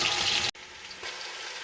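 Sliced large onion frying in hot oil toward light golden, a steady hiss and sizzle broken by a brief dropout, then continuing evenly at moderate level with no talk.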